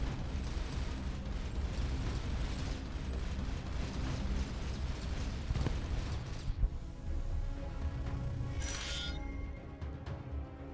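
An enemy ship blows apart in the space game Starcom: Unknown Space, a loud, sustained rumbling blast with crackling bursts over steady engine drone, then a quieter mechanical tail with a brief sharp pop.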